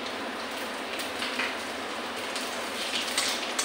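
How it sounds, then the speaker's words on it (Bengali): Panch phoron, a five-spice mix, crackles and spits in hot oil with the dried chilli and bay leaf. The sizzle is steady and close, with scattered sharper pops and no voices. "পাঁচফোড়নটা একটু ভাজা ভাজা হয়ে যায়"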